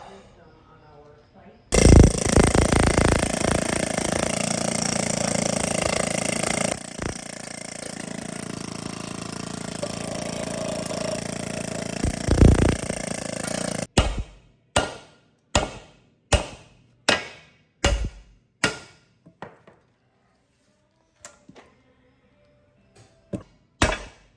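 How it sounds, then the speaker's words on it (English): An air chisel works on a nut on a Brockway 361 truck, first a long loud continuous rattling hammer, then a series of short sharp bursts spaced about a second apart, with pauses of near silence between them. "We may have to take that out with an air chisel."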